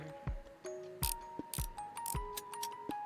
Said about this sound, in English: Pull out all the screws that we can.